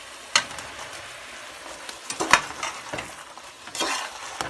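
Fish 65 sizzles steadily in a hot pan while being stirred, with scraping sweeps and sharper crackling bursts standing out from the constant frying hiss.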